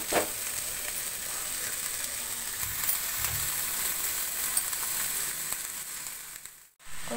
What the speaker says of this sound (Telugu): ముందుగా బాయిల్ చేసుకున్న చిక్కుడుని వేద్దాం